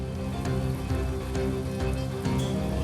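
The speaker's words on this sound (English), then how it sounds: "It's raining hard." Hard rain falls steadily around a shelter at a Bessarabian vineyard work site, a dense, continuous patter with a few louder drop bursts and no talk.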